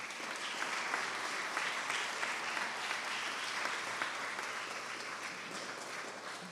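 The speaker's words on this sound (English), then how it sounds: "Let's give him a round of applause." Steady applause from an audience at a primary school graduation, dense clapping held at an even level throughout, fairly faint and distant.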